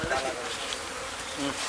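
Honey bees buzz steadily and close by as the queen is carefully moved into the brood chamber of a wooden hive box, a dense continuous drone that holds through the whole moment.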